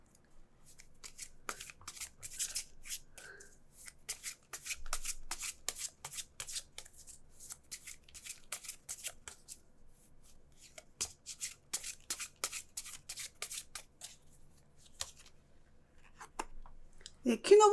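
Tarot cards are shuffled in a long run of quick, crisp riffling flutters, with a card drawn and set down near the end, while someone talks quietly over it.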